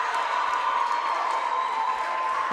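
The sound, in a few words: basketball crowd cheering during a timeout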